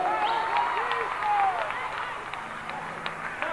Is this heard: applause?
yes